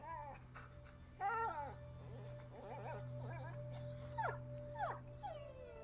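In the video game A Plague Tale, an injured dog whimpers and yelps in a string of short, high, wavering cries over a steady low hum, with faint game sounds behind.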